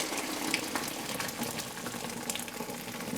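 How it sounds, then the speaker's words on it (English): Hot water and cooked food pour steadily into a strainer, a dense continuous splashing rush that fills the whole moment without any voices. "And we'll pour it in this strainer."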